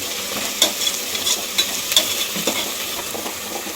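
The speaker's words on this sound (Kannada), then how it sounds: "ಮೆಂತ್ಯ ಸೊಪ್ಪು ತೊಳೆದು ಕಟ್ ಮಾಡಿ ಇಟ್ಕೊಂಡಿರೋದು ಹಾಕ್ತಾಯಿದ್ದೀನಿ ಫ್ರೈ ಮಾಡೋಣ" Chopped fenugreek leaves frying in a pan, a steady soft sizzle with intermittent stirring scrapes and light clinks of a utensil, close and without talk.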